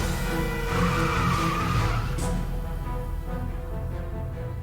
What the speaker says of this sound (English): That was the sports car I was looking for earlier.